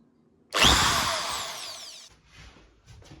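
A new electric drill whirs loudly at high speed for about a second and a half while fixing a door closer, then stops, followed by faint clatter and handling noise.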